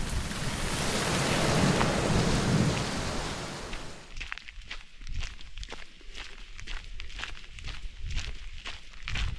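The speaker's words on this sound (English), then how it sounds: "it began to really rain with rivers on the trail, combined with lightning and thunder" Steady heavy rain roars for a few seconds on the Camino de Santiago trail, then gives way to rhythmic footsteps or dripping with a dull rumble beneath.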